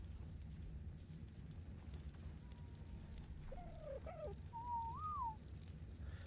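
A player character whistles in a video game, giving a few faint, short pitch-bending notes and then a longer wavering one over a steady low rumble of game ambience.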